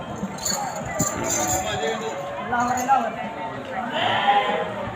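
A goat kid bleats a few times close by at a Nag Panchami fair while people talk over it.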